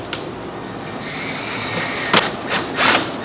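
A power tool whirs steadily at low level, then gives several short, sharp bursts of higher-pitched driving near the end as it drives a 1/4 by 1 inch bolt.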